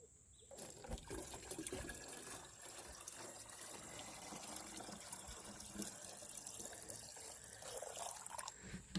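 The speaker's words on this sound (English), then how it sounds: "you fetch water from this side" Water splashing and gushing steadily as it is scooped by hand from a village river in Ghana, fairly close and continuous for the whole stretch, with no talking.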